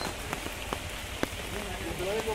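Heavy monsoon rain pours down in the Konkan village of Kumbhavade as a dense, constant wash, with a few sharper drop hits standing out close by and faint voices low in the mix.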